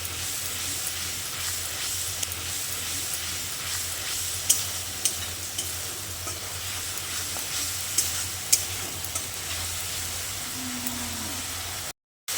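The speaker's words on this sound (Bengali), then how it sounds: "আরও 2 মিনিট মতো এইভাবে নাড়াচাড়া করলে মশলা থেকে জলটা একেবারে শুকিয়ে যাবে।" A wet spice masala is stirred and fried in a pan, giving a steady close sizzle with periodic sharp scrapes of the spoon and a low hum underneath, no talking.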